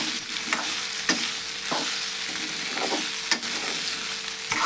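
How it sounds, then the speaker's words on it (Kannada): Sabudana khichdi mixture fries in hot oil as a tempering, giving a steady sizzle punctuated by sharp spoon scrapes and stirs against the pan every second or so. "ಎಣ್ಣೆ ಒಳಗೆ ಮಿಕ್ಸ್ ಮಾಡಿ ಫ್ರೈ ಮಾಡೋಣ್ರಿ"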